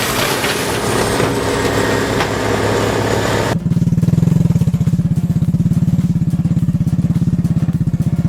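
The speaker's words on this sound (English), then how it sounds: "These young men are accompanying a small motorcycle, but what is surprising is that the motorcycle is carrying large logs." A small motorcycle hauling large logs runs with a rapid, even engine putter that grows louder and more pronounced partway through, close and continuous with no talk.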